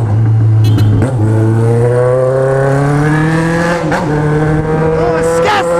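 A Jaguar XJ6 at a street race against a Honda Si Turbo revs hard nearby, its engine note climbing steadily through the gears with brief dips at each shift, loud and continuous.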